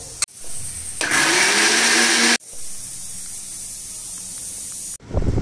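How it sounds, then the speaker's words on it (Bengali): A mixer grinder grinds ingredients to powder in several loud bursts of whirring, with abrupt starts and stops and a brief pause between runs. "মিক্সাৰ গ্ৰাইণ্ডাৰত এতিয়া এইটো গুড়া কৰা হ'ব"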